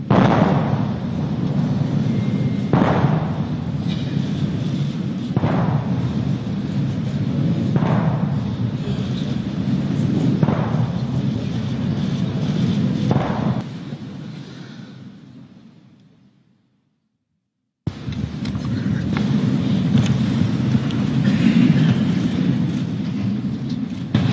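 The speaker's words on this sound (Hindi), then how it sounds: "21 तोपों की सलामी" Deep booming cannon shots of a 21-gun salute at a presidential swearing-in, fired one after another at regular intervals over a constant rumbling background, followed by a brief silence and more rumble.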